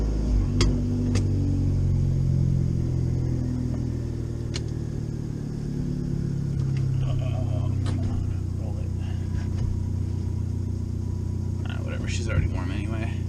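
An Abarth with front chassis braces pulls away on a test drive, its intake droning low and steady under the engine, with a few sharp clicks and rattles and a brief rising rev near the end.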